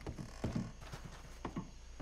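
Horse hooves clip-clop in Red Dead Redemption 2 at a steady walking pace, with soft repeated double thuds and faint background ambience.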